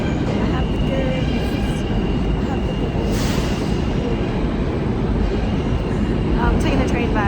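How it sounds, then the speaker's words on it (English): Train interior on a ride home: a steady, loud broadband rumble of the moving carriage with faint squeals and rattles, continuous throughout. "I'm taking the train back, so we're gonna see how that goes."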